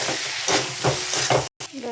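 Potatoes being sautéed in a pan for an egg and potato curry, with a steady sizzle broken by several scraping stirs and a brief silent gap near the end.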